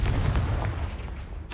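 A fire spell blast from Hogwarts Legacy booms out at once, a heavy burst that decays over about a second before a second sharp hit at the end.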